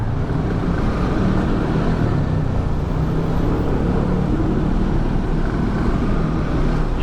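Slow road traffic rumbles nearby in a steady, low drone of engines, with no distinct passes and no voices.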